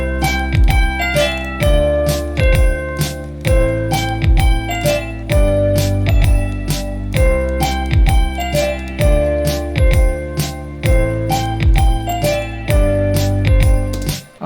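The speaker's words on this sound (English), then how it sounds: "I want to basically duplicate it to just another bell sound." Layered Christmas bell sounds programmed in FL Studio for a Christmas-type beat ring out in a bright, repeating melodic pattern with a steady rhythm, loud and alone.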